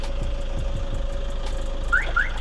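A Toyota Innova diesel idles with a steady low rumble and faint knock, then two short chirping beeps from the remote ring out as the engine is switched off remotely, close by and without talk.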